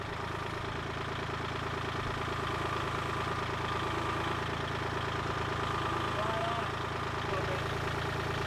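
A tractor engine idles and runs steadily nearby during a pergola build, a low continuous rumble with a faint knocking pulse, while voices are heard over it.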